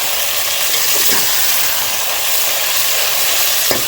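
Onions and chicken frying in a pot for a chicken aloo shorba, a steady loud broadband sizzle that holds continuously throughout without pause.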